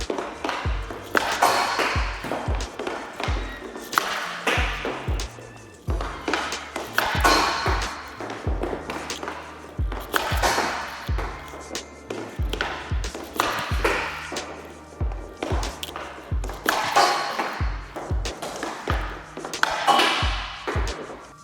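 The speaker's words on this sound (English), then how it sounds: "Let's shoot this thing." Repeated hockey shots ring out from a Bauer Proto-R composite stick striking pucks, each a sharp crack and thud in an irregular series of strikes, close and loud.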